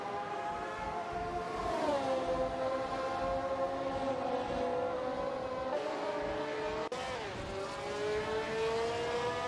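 Formula 1 race cars from a 1971 AI-driven racing video game roar steadily past, overlapping engine whines rising and falling in pitch as they shift and pass, loud and continuous with no talking.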